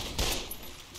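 Gunfire in a battle-royale video game: a dense, loud burst of rapid automatic shots filling the whole short moment, with no talking.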